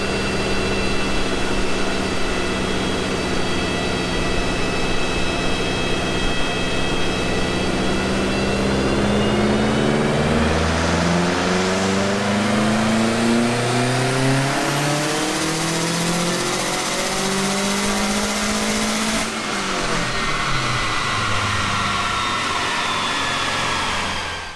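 A turbocharged Blouch 380XT car engine on a dyno, running on 93 octane, climbs through a long loud rev with rising pitch and turbo whine, then cuts off sharply and winds down.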